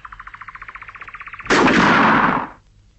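A single loud gunshot blast lasting about a second, preceded by a fast rhythmic mechanical rattling, then fading into quiet.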